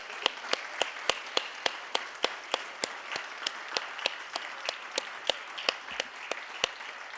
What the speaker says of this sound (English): Let's please give all of them a round of applause.